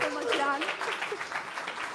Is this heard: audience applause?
yes